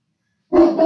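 A single deep, loud bark rings out suddenly after silence, close and resonant.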